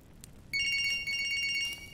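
Electronic telephone bell trilling in the Siren Head horror video game, starting abruptly and ringing loud and close in a rapid repeated burst, with a brief gap partway through, over a quiet low rumble and no speech.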